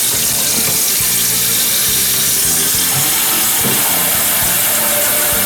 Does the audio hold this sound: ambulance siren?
no